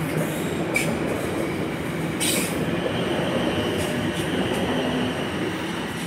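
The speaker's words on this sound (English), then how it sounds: "departing out is the 12:05 to Weymouth, the South Western Railway service." A South Western Railway class 444 train departs Brockenhurst station on a service to Weymouth, its rolling rumble steady and close, with wheel squeals rising at intervals above the noise.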